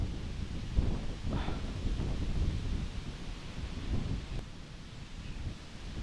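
Gusty wind buffets the microphone outdoors at a sandy site where sand and gravel are being shoveled and bagged. The low, rumbling roar stays steady throughout, with no talking.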